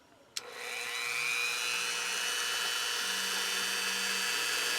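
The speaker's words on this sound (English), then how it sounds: "You want to be very careful with a Dremel. A Dremel is a power tool." A high-pitched Dremel rotary tool starts abruptly and whines steadily, carving polymer clay continuously at close range with a faint low hum underneath.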